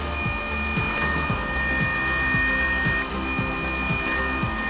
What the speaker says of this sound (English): The next thing on my list of things to have in the bedroom to help you out is a cordless massager.